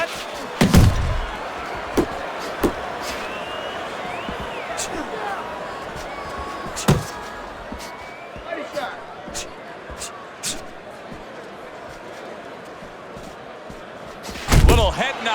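Punches land in the Fight Night Champion boxing video game, a heavyweight bout between Oleksandr Usyk and Joseph Parker: scattered sharp thuds, a heavier cluster near the start and end, over steady crowd noise with a commentator talking.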